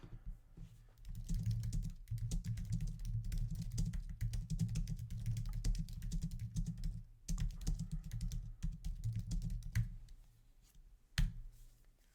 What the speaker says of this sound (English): that was terrible typing